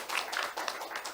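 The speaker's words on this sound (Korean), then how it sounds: "박수 한번 주시기 바랍니다." Members of a church congregation clap together in a brief burst of applause, quick uneven claps overlapping at a moderate, fairly distant level.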